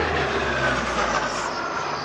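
An Atlantique 2 maritime patrol aircraft passes at around 400 km/h at the La Ferté-Alais air show, giving a loud, steady, broadband engine roar that fills the whole clip.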